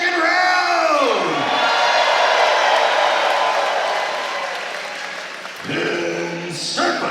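A Pittsburgh crowd at exhibition fights cheers and applauds loudly, with whoops and a sustained roar that gradually fades, before an announcer's amplified voice cuts in near the end.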